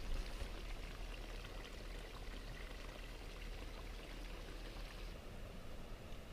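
Warm stream running beside the trail at Devil's Kitchen in Lassen Volcanic, a steady close rush and pour of water that holds at an even level throughout.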